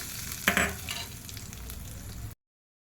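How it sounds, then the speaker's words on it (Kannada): Tempering for chutney hitting hot oil, with a sharp crackling burst near the start that settles into a steady close sizzle and then cuts off abruptly. "ಚಟ್ನಿಗೊಂದು ಒಗ್ಗರಣೆ ಹಾಕಿದರೆ ನಮ್ಮದು ಚಟ್ನಿ ರೆಡಿ ಆಗುತ್ತೆ"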